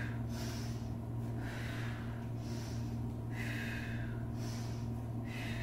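Someone doing elevated-leg chest-to-knee crunches breathes in a steady rhythm, with about six forceful exhales and inhales through the nose and mouth, close and fairly faint over a constant low hum.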